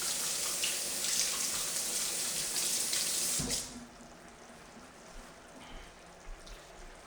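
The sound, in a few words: tap running while washing hands at a sink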